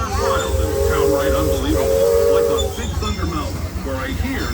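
A Disneyland Railroad train at Anaheim, California, rumbles along with a steady mechanical roar, steam hiss and a sustained tonal whistle-like tone, loud and close, with a voice faintly mixed in.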